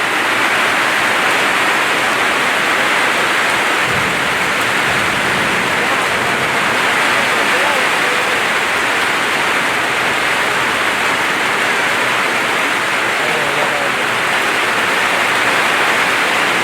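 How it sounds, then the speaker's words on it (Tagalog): Steady rain falls on a house in the Philippines, a dense continuous hiss of drops on the roof that stays loud and even from start to finish, with no voices over it. "Eh sa kagaya ngayon, umuulan."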